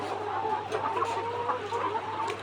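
Several 141-day-old laying hens on a layer farm cluck and murmur steadily at moderate distance, a continuous chorus of soft calls over a low constant hum.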